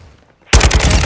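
Machine gun fire in Call of Duty: Modern Warfare II bursts in suddenly after a brief quiet moment, a loud close rapid stream of shots that continues to the end.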